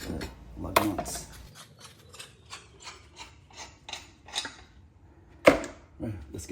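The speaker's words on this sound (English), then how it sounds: "Right now I'm gonna remove the lug nuts" Lug nuts on a 2012 Jeep Wrangler Rubicon wheel are spun off with a ratchet, giving a close series of quick rasping clicks with a sharp metallic clack midway and faint handling sounds.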